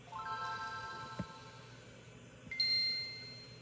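Faint startup chime from a Nintendo Game Boy console, a soft ringing tone that fades, a short pause, then a brighter high-pitched ping that rings out and decays, with no talking.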